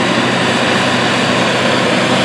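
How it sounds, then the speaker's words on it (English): A 620 hp Case IH Quadtrac HD tractor pulls a 9-shank Case IH 2500 inline ripper with a Great Plains caddy through heavy tillage, making a loud, steady, broad engine roar that holds unchanged throughout. "We can see the big tractor doing what it's built to do, and that is heavy tillage."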